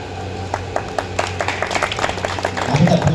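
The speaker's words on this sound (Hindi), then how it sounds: "हमें जोरदार तालियां।" An audience at a local public function in Chhindwara breaks into applause, many hands clapping in a dense, continuous patter that swells louder toward the end.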